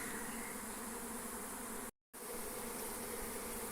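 Large crowd of honeybees flying in to a big fifty-frame hive, a dense continuous buzzing drone that stays steady and close throughout, broken only by a brief cut in the middle.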